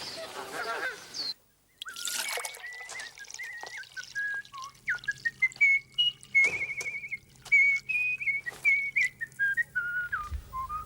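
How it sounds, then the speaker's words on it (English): A man whistles a wandering, breathy tune near a river, the melody rising and falling in short phrases after a brief honk of geese and some rustling. "That's a nice whistle."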